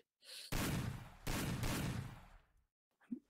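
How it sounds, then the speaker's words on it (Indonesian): Two loud bursts of rapid gunfire, close and harsh, separated by a brief gap, then fading into quiet with a small click at the end. "masih ada Tembakan ke arah seorang Noxa kali ini"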